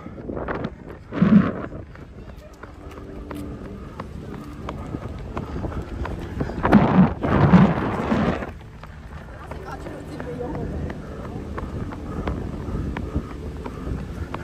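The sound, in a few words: strong wind blowing into the microphone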